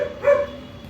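A single short bark from a dog frightened of a wooden crate, sharp and fairly close, over a quiet background.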